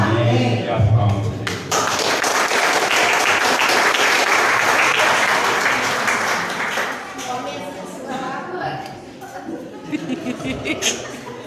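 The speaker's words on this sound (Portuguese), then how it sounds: "E as palmas." A congregation claps at a Portuguese-language church service, a dense burst of applause that builds quickly, holds for several seconds and then thins out, with a voice speaking before and after it.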